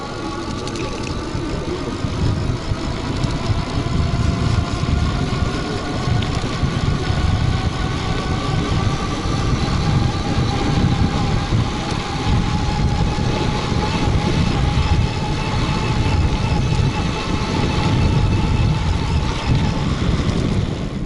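A 500W 48V electric bicycle with a nearly drained battery climbs a small hill at full throttle, giving a steady whine from the motor under loud rushing wind noise, with no talk.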